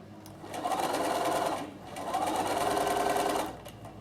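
A domestic sewing machine stitches in two steady bursts, running about a second each with a short pause between them, close and fairly loud, with no voice over the motor hum.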